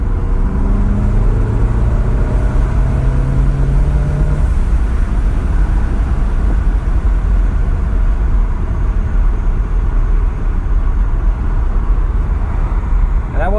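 Inside a VW Golf R Mk7.5 with a Unitronic Stage 1+ tune in race mode, the car accelerates in fourth gear from about 40 with a loud, steady engine drone and road rumble, with the engine note climbing early on.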